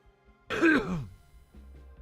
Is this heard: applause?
no